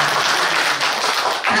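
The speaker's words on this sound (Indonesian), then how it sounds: "Tepuk tangan yuk" Applause fills a room at a teachers' workshop, a dense steady round of clapping from an audience lasting the whole short stretch.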